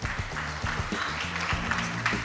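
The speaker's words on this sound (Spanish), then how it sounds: "un aplauso para el Community Manager." Audience applause at an inclusion fashion day show in Ibiza, a steady wash of clapping layered over a thumping low music beat, moderately loud throughout.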